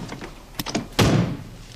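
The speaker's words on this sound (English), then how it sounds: "Helps if you open the door." A door opens with a solid thunk and a rush of movement, preceded by a few lighter knocks and clicks, heard close and loud with no talking, set in a comedic James Bond scene with Q and R.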